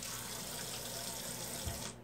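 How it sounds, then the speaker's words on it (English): Water runs steadily from a tap at a sink during handwashing, a continuous close splashing rush that fills the short moment. "Let's wash our hands here"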